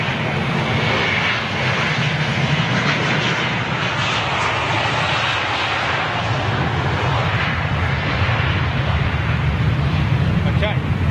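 An Airbus A320 jet departing Heathrow, its engines producing a loud, steady, broadband roar that holds for the whole stretch without easing off, with no talk.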